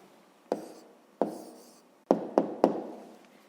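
A pen writes down the answer to a fifth-grade math exercise, making five short, crisp taps and scratches on paper, close and quiet, with no voice.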